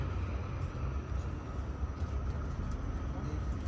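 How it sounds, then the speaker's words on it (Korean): A continuous low rumble and hum of a Sydney tram rolling along rails, heard from inside. There is faint background noise but no clear words. "우리의 첫 트램."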